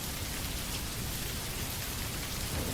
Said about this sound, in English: The rain persisted